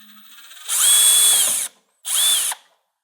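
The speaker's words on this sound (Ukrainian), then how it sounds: "а тепер крупним кадром ми викрутимо наш надскладний гвинт" A Metabo BS 18 L BL Quick cordless drill driver unscrewing a screw: two close, loud whirring motor runs, a longer one of about a second followed by a shorter burst, each with a high steady whine.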